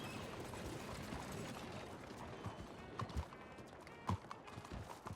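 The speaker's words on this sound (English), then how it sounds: "there's a lot of horses." Hooves clip-clop in a busy mix of horses moving through a Western roleplay game town, with a dense, steady bed of shuffling and clacking and a few sharper, louder hoof strikes standing out.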